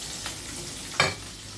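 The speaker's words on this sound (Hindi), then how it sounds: "देखो प्याज डाल दिए।" Chopped onions tip into a hot pan with dried kolim for a Konkani thali, setting off one brief, sharp sizzling burst that fades back into a steady low frying hiss.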